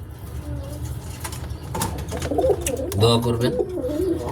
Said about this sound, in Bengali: আর এই হচ্ছে আমার রেসার কবুতর জোড়া।